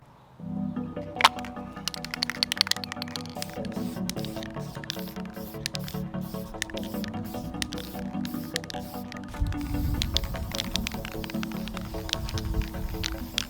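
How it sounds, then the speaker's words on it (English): Resin poured and worked into acid pits on a hobby scale model, a series of small close wet squishes, drips and sharp crackles scattered across a quiet background, growing denser near the end. "I have to fill up these acidic pits to look like they have liquid acid in them, which means it's time to pour some resin."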